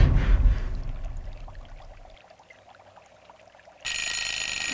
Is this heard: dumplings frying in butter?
no